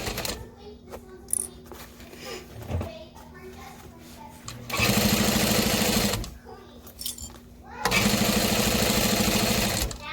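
A sewing machine back-stitches a backpack in two loud, sustained runs in the latter half, after a stretch of quieter handling noise and a voice talking.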